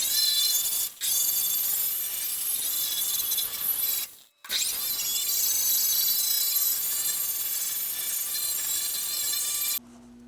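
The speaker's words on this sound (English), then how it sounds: "So I got my Contour SCT from Eastwood, and we're gonna use that to strip it down." Eastwood Contour SCT rotary surface-conditioning tool stripping paint off the rear roll pan of a 1973 Toyota Celica, a loud, steady high-pitched whirring grind with two short pauses where the tool lifts off the metal.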